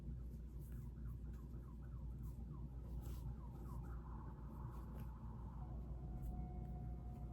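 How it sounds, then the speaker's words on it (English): An ambulance siren wails at a distance with rising and falling sweeps, faint beneath a steady low background rumble indoors. "Why is the ambulance going off?"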